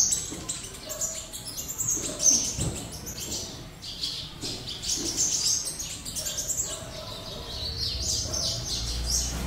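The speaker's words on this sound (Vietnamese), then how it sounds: "full giọng rừng, chỉ hót giọng rừng không thôi" A wild-type sunbird sings in bursts of high, thin chirps and trills with brief gaps over a steady background hiss, close and clear, no talking.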